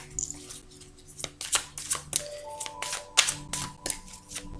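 A deck of tarot cards shuffled and cut close by: a quick series of soft riffling flicks and light slaps in an irregular rhythm, fairly quiet and with no one speaking over it.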